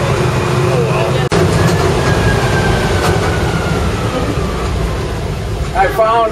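Steady low rumble of a tram in motion at Old World Wisconsin, with rattling and a faint high whine running throughout; voices chatter briefly near the end.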